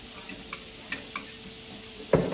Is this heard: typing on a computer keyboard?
no